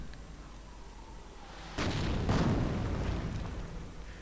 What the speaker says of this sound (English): Volkswagen could be getting mortared right there